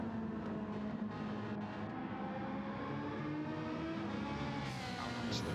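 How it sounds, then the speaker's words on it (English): A BMW GT race car in a sim racing game at St Croix blasts past at full throttle then lifts off, its side-mounted exhausts spitting and popping in a continuous loud engine roar with no talk. "burning past the camera and then off throttle, flames spitting out of the side-mounted exhausts of the BMW."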